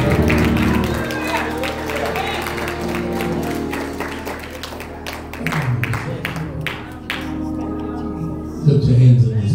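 A church congregation claps and applauds steadily, a dense wash of many hands over sustained organ or keyboard tones, with a voice speaking over it and the clapping swelling near the end.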